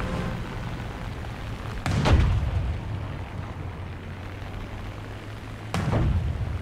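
Tank cannon fire in War Thunder ground realistic battles: two heavy booms a few seconds apart, each a sharp blast followed by a low rumbling tail over steady background noise.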